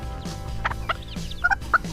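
A Cochin bantam hen being handled gives short clucks and squawks, close and fairly loud, with a few sharp bursts near the end and handling rustles in between.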